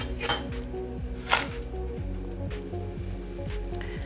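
A spoon stirs Ukrainian fish soup in a pot, giving soft clinks and scrapes against the metal with a few brighter knocks, close and fairly quiet over a faint background hiss.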